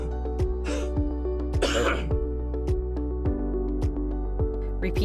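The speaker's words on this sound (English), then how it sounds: "Do 2 to 3 huff coughs to get rid of mucus." A person using an Acapella breathing device does a few short, breathy forced huff coughs to clear mucus, heard close up over a steady low mechanical hum with rhythmic clicks.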